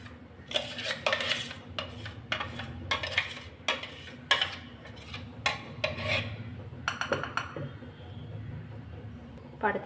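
Thick ground rice batter is scraped and poured from a grinder jar into a bowl, with repeated clinks and scrapes of a spoon against metal and a steady low hum beneath, close and moderately loud.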